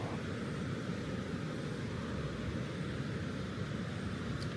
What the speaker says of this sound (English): Drone is on.